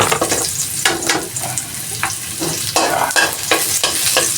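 Onions frying in a pan toward golden brown, a steady loud sizzle broken by repeated scraping strokes of a spatula stirring them, close and continuous without any voices.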